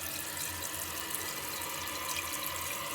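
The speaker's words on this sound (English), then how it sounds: "I will flush it." Water rushes steadily from a Delta toilet being flushed, a continuous close hiss and gurgle at low volume, alone without any talk.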